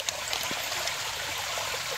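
Spring water on a farm flows in a steady, close rushing stream, with faint trickles and splashes and no voices.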